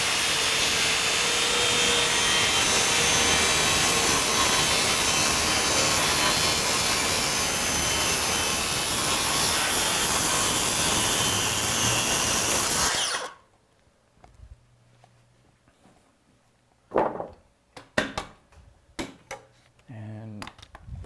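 A power saw cuts through a polycarbonate sheet in a workshop, a loud, continuous high whine for about thirteen seconds before it stops abruptly, followed by quiet handling clatter and a few short knocks.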